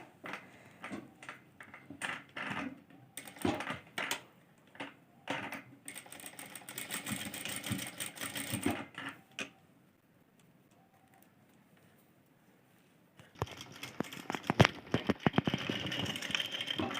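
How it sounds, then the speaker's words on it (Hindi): A sewing machine stitching the points of a boat-neck dress neckline, running in short rapid bursts, then in a longer steady run, falling silent for a few seconds, and starting up again, close and loud. "अब हमें एक एक पॉइंट पे सिलाई कर देनी है।"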